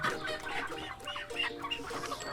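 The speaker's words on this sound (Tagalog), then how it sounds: "150 free-range chickens ang nilabas mula sa grower house papunta sa ating pasture" About 150 free-range chickens cluck and chatter steadily in a busy, overlapping flock as they are released from a grower house onto pasture, fairly close, with no talking.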